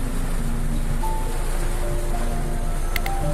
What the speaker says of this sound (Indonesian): deras banget hujannya guys, asli.